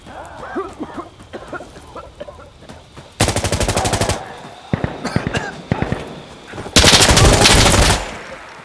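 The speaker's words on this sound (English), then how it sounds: "Where were they shooting us from?" Bursts of automatic gunfire in a match of Insurgency: Sandstorm, with two long loud volleys and scattered shorter shots between quieter stretches, along with some talk.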